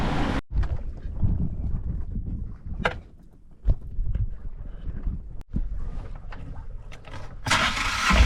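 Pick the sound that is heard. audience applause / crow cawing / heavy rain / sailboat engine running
sailboat engine running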